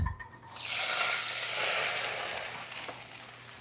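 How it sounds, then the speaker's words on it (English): Lettuce rinsed under a running kitchen tap, a loud broad steady rush of water that starts abruptly after a brief knock and continues evenly, with no talking. "I'm going to give this a quick rinse."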